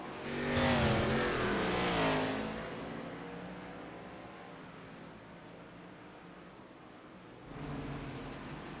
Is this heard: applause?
no